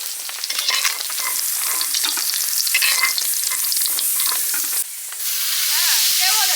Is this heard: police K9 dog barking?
no